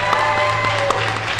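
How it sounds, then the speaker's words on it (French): An audience at a Paris fan festival panel claps for a Batman cosplayer in an Arkham Knight costume, a brief dense burst of hands over a hall's steady background hum. "On peut applaudir Batman, s'il vous plaît."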